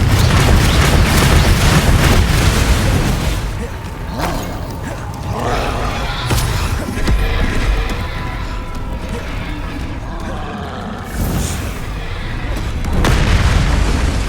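Confringo blasting spells exploding in Hogwarts Legacy combat, heavy booming blasts and rumbling roars layered over continuous low battle noise, loud and close, with a brief voice shouting between bursts.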